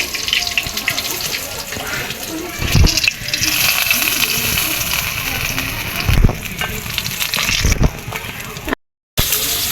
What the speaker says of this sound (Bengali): এখন আমি মাছটাকে মেখে নিব এখন আমি মাছটা দিয়ে দেব